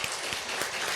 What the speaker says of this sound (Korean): 격려의 박수 한번 하면 좋겠습니다